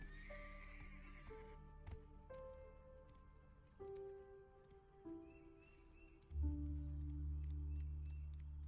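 A video game horse whinnies, then several soft tonal calls and rustling follow, ending with a low steady rumble.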